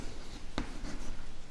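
A marker or chalk makes a single brief, faint stroke on a board while equations are worked out, standing alone over quiet room noise.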